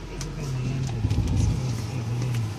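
A 1999 Bentley Arnage twin-turbo V8 pulls away from a stop, its low engine hum steady and moderately loud from inside the cabin, rising slightly around mid-clip with faint road and interior noise.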